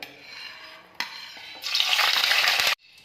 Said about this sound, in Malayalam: ഇപ്പോൾ ഞാനിപ്പോൾ ഒന്ന് ഫ്രൈ ചെയ്തെടുത്തിട്ടുണ്ട് നമ്മുടെ കറിവേപ്പിലയും പച്ചമുളക് കീറിയതും